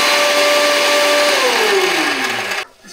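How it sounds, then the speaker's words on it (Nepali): An electric kitchen mixer grinds ginger, garlic, green chilli, cardamom and black pepper: a loud, steady motor whine that sinks in pitch as the blades load, then cuts off abruptly just before the end. "मैले यहाँ अदुवा, लसुन, खुर्सानी, अलिकति सुकुमेल र अलिकति मरिच राखेर म अब मिक्सरमा हाल्दैछु"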